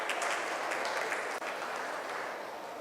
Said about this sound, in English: give a round of applause to them